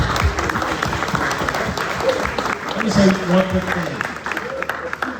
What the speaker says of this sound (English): If we could just give him a round of applause